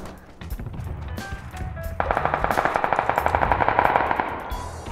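Video game gunfire: a few separate shots, then a rapid, loud automatic burst of evenly spaced rounds lasting a couple of seconds, up close with no talk.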